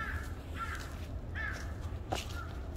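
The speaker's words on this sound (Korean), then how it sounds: "까마귀가 상당히 많습니다." A flock of crows caws from a distance on a mountain with Japanese cypress trees, giving several harsh calls spread across the moment over a constant low outdoor rumble.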